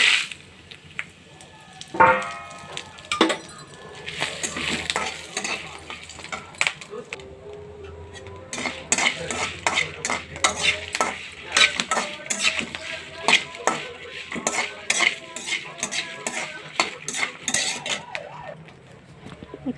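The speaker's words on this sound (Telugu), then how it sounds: "ఇప్పుడు ఎండుమిరపకాయలు వేయించుకుందాం." Dried red chillies frying in oil in a kadai, with soft sizzling and repeated sharp scraping stirs of a utensil against the pan, while a voice talks intermittently.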